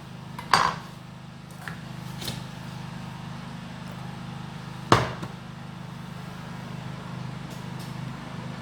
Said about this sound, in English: So I just finished rinsing it, and now I have to be cutting it.